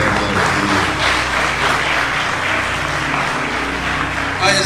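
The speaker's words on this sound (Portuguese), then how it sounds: "Dá um aplauso." A church congregation applauds, a loud sustained wash of clapping from many hands that fades at the end, with some voices mixed in.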